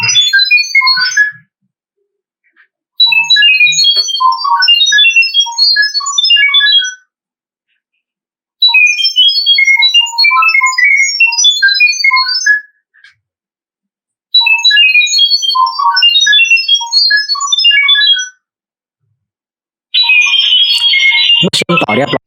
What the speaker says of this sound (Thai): จะมีเสียงสัญญาณดังขึ้นมาจากตัวกล้อง